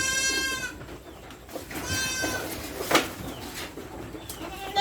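Goats bleat on a goat farm, with several harmonic bleats near and clear at the start and around two seconds in, among scattered farmyard noises and faint bird calls.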